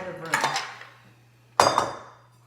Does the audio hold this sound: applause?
no